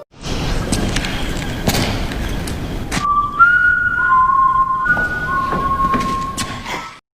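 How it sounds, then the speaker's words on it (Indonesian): A person whistles a simple tune, sustained clear notes stepping between pitches, over a busy noisy background with occasional thumps. "Gubernur mencari Andrea sambil bersiul"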